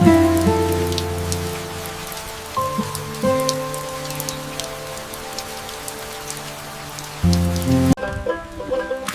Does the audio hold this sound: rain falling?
yes